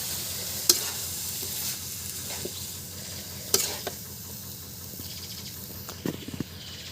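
Vegetables go into a hot pan after small puti fish and are stirred, a soft steady sizzle with scattered scraping clinks of the spatula against the pan, fairly quiet and close.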